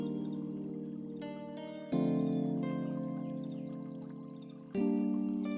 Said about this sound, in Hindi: अब उसमें आधा कप नीम गर्म पानी डाल दूंगी।